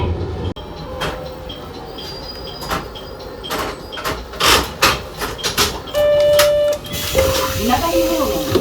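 A one-man local train in Matsuyama, Japan, bound for Iyo-Saijo, rumbles along steadily with clattering, a few sharp knocks, and a tonal chime or beep near the end, heard from inside the carriage.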